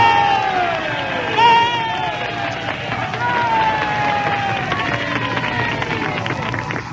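A theatre crowd at the Ziegfeld Follies cheers and shouts for the Prince of Wales as he arrives in a stage box, a loud steady roar with a few higher voices rising above it.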